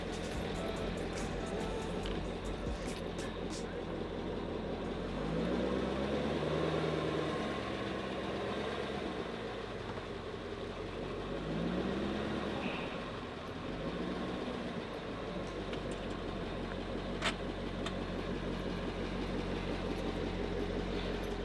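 A car engine idles steadily with a low, constant rumble, and a slight shift in tone comes as the automatic is put into reverse. No one speaks.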